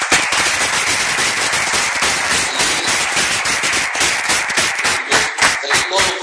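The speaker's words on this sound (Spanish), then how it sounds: "Aplausos a Cristo" Church congregation applauding together: dense, loud, continuous clapping that thins into separate claps near the end.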